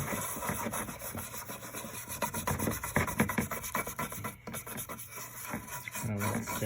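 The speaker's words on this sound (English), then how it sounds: "Just keep rubbing away." Polishing compound being rubbed by hand onto the plastic cover of a garden solar light, a steady close-up rasping scrub that runs continuously with quick back-and-forth strokes and no talking.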